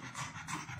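A dog pants in the heat outdoors, with two or three quick, breathy rasping pants that are faint and close.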